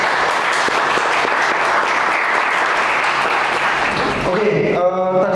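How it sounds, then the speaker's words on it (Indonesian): A room of people gives steady applause to a participant named Ready at a lecturer certification session, sustained and even for over four seconds before a voice starts speaking. "Beri tepuk tangan untuk Ready tuh."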